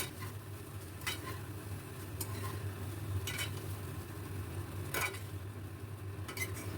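Paneer rice being stirred with garam masala in a pan: a quiet low sizzle underneath, with a few spaced scrapes of a spoon against the pan, close and fairly faint, no voices.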